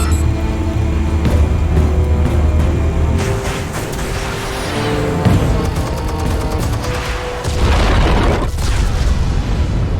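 Explosives detonate in a Batman video game, heavy booms and crackling blasts going off in loud succession over a dense rumbling background, with a couple of sharper bursts standing out.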